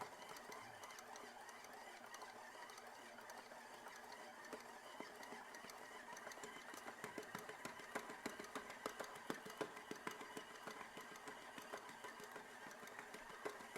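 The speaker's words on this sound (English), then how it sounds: "You may have to hold the mixer because it'll walk away from you." Stand mixer kneading challah dough, a continuous close motor whir with a rhythmic knocking that grows stronger in the second half as the machine jolts and walks on the table.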